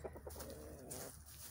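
Hens cluck in a backyard chicken coop, one bird agitated while another occupies the nest box; short, faint clucks and squawks come in quick uneven bursts at a moderate distance, with no talking.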